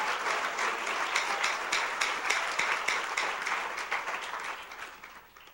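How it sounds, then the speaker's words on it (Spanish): A church congregation breaks into sustained applause during a pastor's sermon, a dense, steady wash of many hands clapping that fades slightly toward the end. "Un aplauso fuerte al Señor."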